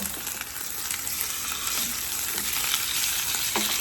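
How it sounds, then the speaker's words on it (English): Salmon fillet laid skin side down in a hot, oiled pan sizzles steadily and loudly, a dense continuous fry with small crackles throughout and no talking. "I'm gonna take our salmon in our hot pan, and it's unseasoned because we're gonna season it as it cooks"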